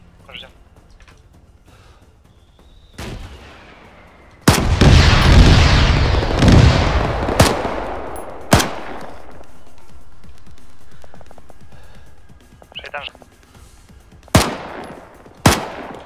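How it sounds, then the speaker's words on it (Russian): Gunfire in the video game ArmA 3: a few sharp, isolated shots, then a loud heavy blast whose rumble lingers for several seconds, followed by more scattered cracks, with voices talking over the action. "Да-да-да, подходит, с севера стреляют."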